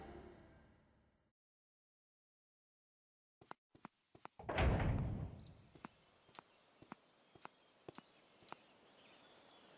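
A door opening in the video game The Legend of Zelda: Skyward Sword. A short silence, a few light taps, then a heavy thudding door sound swelling and fading, followed by scattered sharp clicks and knocks.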